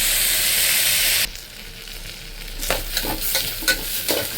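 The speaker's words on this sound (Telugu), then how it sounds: "ఇది బాగా వేగాలి" Spices for dried red chilli tomato dal fry in hot oil in a pan, starting with a loud steady sizzle that suddenly drops, then quieter frying under close stirring scrapes and clinks against the pan.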